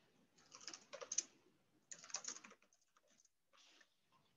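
Typing on a computer keyboard while editing a document template, heard as quick bursts of close, crisp key clicks separated by short pauses, with no talking.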